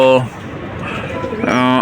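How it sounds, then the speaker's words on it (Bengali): Pigeons coo softly indoors in a small household loft, one low call at the start and another at the end, with a voice talking faintly between them. "আর কিছু কবুতর আছে অল্প কিছু"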